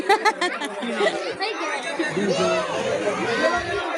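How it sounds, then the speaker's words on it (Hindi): A dense, busy crowd at the Gwalior fair fills the air with overlapping chatter and babble from many voices close by, a continuous hubbub without pauses. "भाई आज भीड़ है ना, बहुत ज़्यादा है, बहुत ज़्यादा भीड़ है।"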